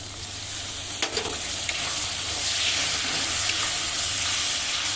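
A little water goes into a frying paste of spices and ground seeds in oil, and a loud, hissing sizzle with steam rises and holds for several seconds, with a brief clatter near the start.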